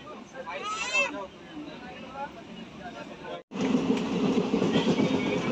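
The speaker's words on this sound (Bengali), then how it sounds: "ট্রেন এইমাত্র ছাড়বে" The Dhono Dhanya Express sits at Naihati station about to depart, heard as a rumbling train hum and carriage noise, with a voice speaking early on and a louder, broader rush of rail noise after a brief cut.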